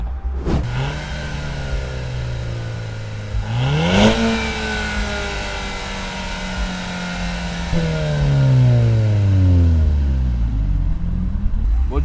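Audi TT with a 2.0 TFSI engine fires up and revs, a steady idle then a rising rev around four seconds, and another climbing, falling rev sweep near the end, loud and close with no talk.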